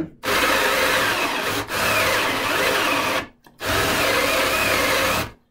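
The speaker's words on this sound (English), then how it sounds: "I drilled down just about to the full depth" A Forstner bit bores a hole into wood with a loud, steady grinding whir in three long sustained bursts separated by brief pauses, heard alone and close up.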